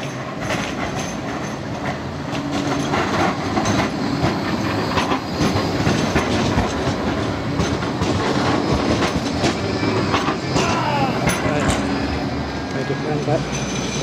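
Blackpool tram rolling along the seafront, a steady rumble with clickety wheel noise lasting throughout, fairly close and loud, with traffic and street background.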